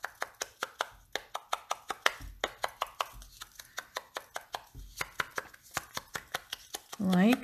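Quick, soft rhythmic dabbing of a finger dauber loaded with crumb cake ink around the edges of a paper circle, close and faint, about two taps per second, with a brief voice at the end.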